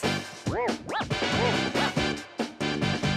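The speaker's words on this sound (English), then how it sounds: "Dog. The dog is man's best friend." A dog barks and yips several times in quick bursts, loud and close, with whimpering tones between barks.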